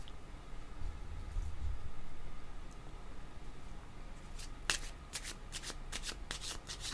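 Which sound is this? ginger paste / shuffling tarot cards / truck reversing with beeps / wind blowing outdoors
shuffling tarot cards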